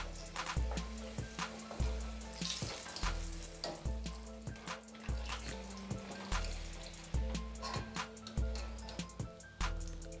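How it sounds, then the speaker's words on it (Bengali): Green peas kachori deep frying in hot oil, giving a steady close sizzle with bubbling crackles and small pops, and low repeating thumps underneath. "এভাবে সব কচুরিগুলো ভেজে নেব।"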